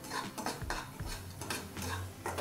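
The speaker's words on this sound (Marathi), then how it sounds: "रवा हा भाजला जात आहे आणि कलर सुद्धा चेंज झालेला आहे।" A spoon scrapes and stirs semolina roasting in ghee in a pan for pineapple shira, making a soft, steady scraping with light clinks against the metal and a faint sizzle, close and quiet.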